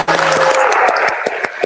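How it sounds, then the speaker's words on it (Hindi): A crowd at a PTI political rally claps loudly and close, with sharp individual hand claps standing out through a short, dense burst of applause. "प्लीज तालियां बजाएं।"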